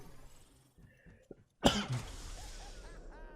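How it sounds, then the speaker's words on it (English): A single sharp cough bursts out close by after near silence, followed by a short trailing rasp. "God, this cough is never going to go away."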